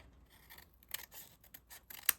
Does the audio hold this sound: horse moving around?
no